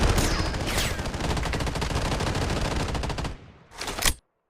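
Rapid, continuous gunfire from the M1887 shotgun in the video game Bloodstrike, loud and dense for about three seconds, then a short final burst before sudden silence.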